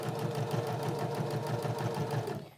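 A sewing machine runs steadily, stitching a fabric pocket pen holder with a continuous rapid mechanical whir that stops abruptly near the end.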